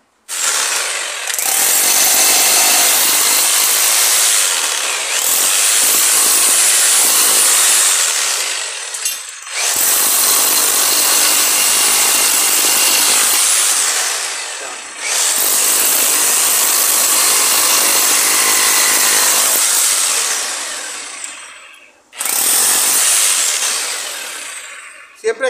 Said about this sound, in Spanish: con esta es recomendable ladear un poquito más el taladro para que te haga bien la función